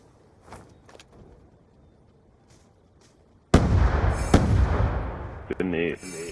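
Grenade blast in a Call of Duty match, a sudden loud close explosion after faint quiet activity, followed by a rumbling tail and crackling debris.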